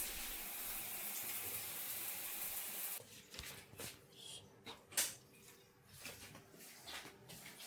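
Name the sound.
shower running water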